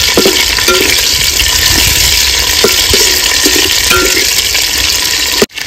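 Mutton fat hisses and bubbles in hot oil in a village kitchen pan, a loud, steady frying roar with faint stirring knocks, ending in an abrupt cut.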